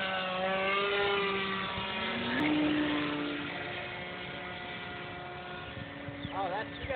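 ParkZone T-28 Trojan RC model plane in gray scheme taking off, its electric motor whining loudly and rising in pitch as it speeds up, then holding a steady drone while voices chat nearby.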